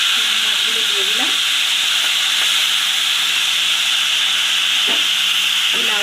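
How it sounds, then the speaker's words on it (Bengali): Shrimp fry in hot oil in a pan, a loud, steady sizzle that runs the whole time, with faint stirring scrapes beneath it. "চিংড়ি মাছগুলোকে একদম হালকা করে ভেজে আমি তুলে নেব।"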